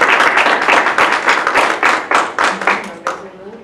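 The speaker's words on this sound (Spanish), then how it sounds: "agradecemos la presencia del doctor con un fuerte aplauso" Brisk, close applause from a seminar audience thanking a doctor, clearly separate claps at first that merge into a full round, then taper off, with a voice speaking briefly near the end.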